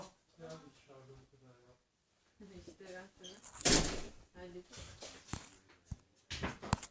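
A door is knocked on a few times with sharp raps, arriving between stretches of people talking in a home.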